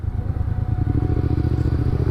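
A Yamaha MT-07 motorcycle rides through city traffic, its engine giving a steady, close, low throbbing rumble heard from the rider's position without any talk.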